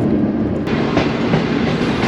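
The Bahauddin Zakaria Express train running on rails, a loud continuous rumble with rhythmic clickety-clack from the wheels, heard from inside or close by with no voices.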